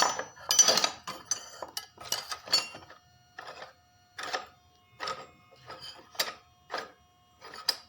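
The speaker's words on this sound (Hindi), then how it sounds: "तो इसके नट खोल लेते हैं क्लच प्लेट के 10 नंबर के नट।" A wrench loosens the 10 mm clutch plate nuts on a TVS Radeon BS6 motorbike, giving sharp, irregular metallic clinks and taps, close and fairly quiet, with short pauses between strikes.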